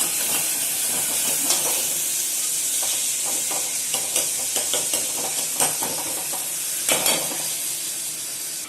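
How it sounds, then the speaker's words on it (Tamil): Tomatoes, mustard seeds and dried chillies sautéing in hot oil for a Tamil pepper rasam, with a steady close sizzle and hiss broken by scattered crackles, pops and occasional scraping stirs. "இது மொத்தமாக இப்போ வதக்கிறோம்."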